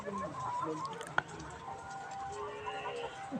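Layer chickens kept in a bamboo cage and feeding, with soft clucks and brief chirps amid a sharp knock, while a person talks over them.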